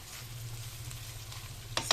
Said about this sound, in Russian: Жду, когда обжарится мясо.